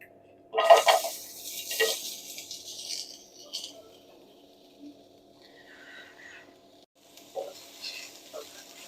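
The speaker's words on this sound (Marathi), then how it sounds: "आता लालसर रंगावर कांदा भाजून घ्यायचाय।" Onion is fried on high flame and stirred in a pan for Kolhapuri misal, heard as intermittent scraping and sizzling bursts from a spatula, close by, with quiet gaps between strokes.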